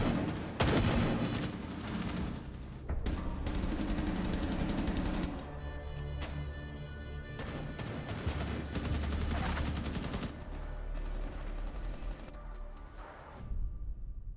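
BOSG shotgun fired from the hip in a video game, with repeated loud blasts in rapid bursts and several brief pauses, dense with booming gunfire throughout.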